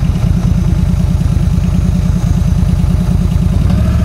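Yamaha V-Star 1300 cruiser motorcycle idling up close, a steady low, loping engine pulse running without a break the whole time with a slight change near the end as the bike is maneuvered to park.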